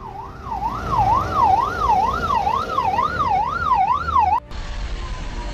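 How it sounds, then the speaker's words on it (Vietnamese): An ambulance siren wails in a steady rising-and-falling cycle, loud and close on the road, with traffic rumbling underneath until it cuts off near the end. "xe cứu thương bật đèn ưu tiên và hú còi"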